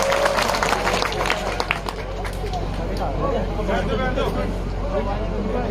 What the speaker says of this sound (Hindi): सभी से निवेदन करूंगा कि तालियों के साथ, जोरदार तालियों के साथ इनका स्वागत करें